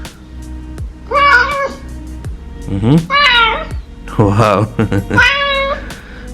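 Recorded cat meows played back from an Amazon Echo Dot smart speaker skill, three or four distinct meows in a row, loud and close, with a person speaking briefly between them.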